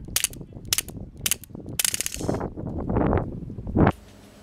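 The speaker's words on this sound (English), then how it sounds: "when it gets close to the end of its CO2 cartridge, it does have a habit of firing 5 rounds in almost fully auto mode" A Tanfoglio Witness 1911 CO2 airsoft pistol running low on gas fires a few sharp, close single shots, then a quick near-automatic burst of clattering, mechanical cracks, followed by gas hiss and rattling, with no talk.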